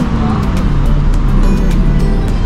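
A car rounding a curve near a curb, its steady engine and road noise running continuously throughout at moderate loudness.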